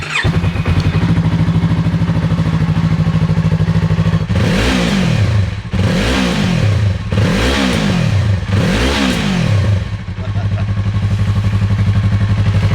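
A 2025 Yamaha R3 motorcycle idles steadily, then gets four sharp throttle blips in quick succession, each rev rising and falling, before settling back to a smooth idle. A voice talks faintly over it.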